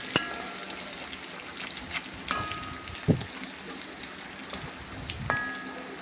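Garlic and ginger fry in a pan for a clam roast, a faint steady sizzle punctuated by a few sharp clinks and scraping stirs, with no talk.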